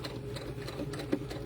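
A sewing machine runs steadily, stitching fabric in a continuous fast mechanical whir with a faint rhythmic clatter, close and fairly quiet, with no talking.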